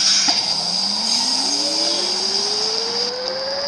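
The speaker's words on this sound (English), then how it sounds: "The next Harlem 148th Street bound 3 train is now arriving at track 4." Simulated R62 subway train on the 3 line in the Hmmsim 2 game, running with a steady loud rumble, a high whine and a rising motor tone, with no voices.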